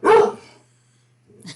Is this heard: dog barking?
yes